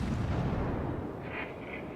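The forward guns of the cruiser Cleveland fire during a World of Warships Domination battle on Fault Line, leaving a deep, rolling boom that rumbles faintly for about two seconds.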